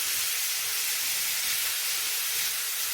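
Bell peppers and onion sizzling steadily in a hot pan, a constant broad hiss with no pauses, close and fairly loud throughout.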